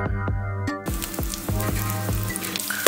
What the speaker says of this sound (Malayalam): അപ്പോൾ നെയ്യ് ചൂടായി വരുന്ന ടൈം നമ്മൾ അതിലോട്ട് അണ്ടിപ്പരിപ്പും മുന്തിരി ഇട്ട് കൊടുക്കാൻ പോവാണ്